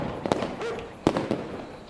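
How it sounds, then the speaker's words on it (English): Fireworks at a fair pop and boom in several separate bursts at middling distance, with a crackling wash between the louder cracks. "it's the fireworks"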